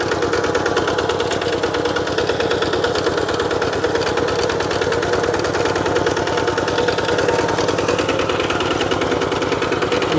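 Thai farm tractor plowing a field, a loud close single-cylinder engine chugging in a fast steady rapid-fire rhythm that runs continuously without a break.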